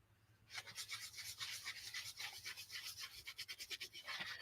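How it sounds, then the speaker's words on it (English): A watercolor palette is dry-rubbed over a stencil, giving a close, quiet, continuous scratchy rasping with quick back-and-forth strokes. "Now I got to rub it a little bit."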